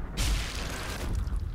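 An explosion in the WWII shooter game Sniper Elite V2: one sudden deep boom that hits loud and close, then decays into a rumbling wash of debris noise.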